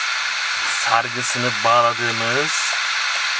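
Tinny audio from a tape player with a rising pitch, buzzing through a small loudspeaker with a repaired coil under steady background hiss, with someone talking briefly.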